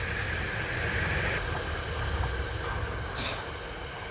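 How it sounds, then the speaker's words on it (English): A train passes nearby with a continuous loud broadband rumble and roar that holds steady for several seconds. No voices are heard over it. "Fucking trains."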